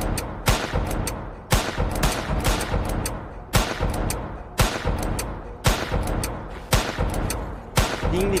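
Loud gunshots in a Roblox horror survival game, a series of sharp, separate cracks spaced roughly a second apart, each with a short echoing tail, with no talk over them.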